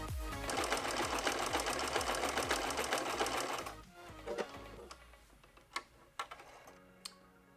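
A sewing machine stitching fleece lining onto a stretchy neck gaiter, set to stitch selector 2, runs in a fast, steady rapid-fire whir for several seconds, then stops, leaving a few scattered clicks and small handling knocks nearby.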